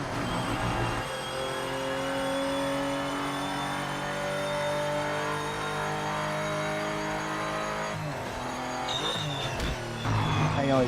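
A race car engine in the Project Motor Racing video game drones loudly and steadily at high revs, pitch climbing slowly, then dropping and shifting near the end with brief tire noise.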